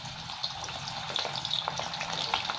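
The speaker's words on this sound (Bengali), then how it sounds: "এবার আমি আলুগুলো ভেজে নেবো" Thick-cut potato pieces sizzle in hot oil in a pan while being fried for dhokar daal, with a steady crackling hiss and small pops throughout, close and moderately loud.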